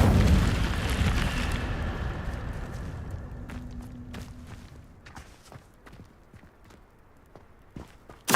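Incendio fire spell cast in the Hogwarts Legacy video game: a loud, broad burst of fiery whoosh that decays over several seconds, followed by scattered crackles and small pops, with a sharp hit at the very end.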